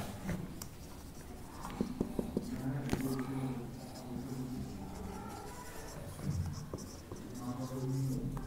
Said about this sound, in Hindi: तब तक मैं क्वेश्चन 2 लिख देता हूं।